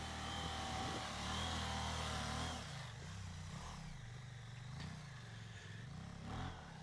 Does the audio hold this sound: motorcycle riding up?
yes